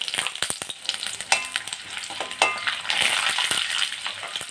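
Urad dal, chana dal, fenugreek and coriander seeds dry-roasting in a pan, a soft crackle with quick rattling clicks and scrapes as the seeds are stirred around, close and fairly quiet.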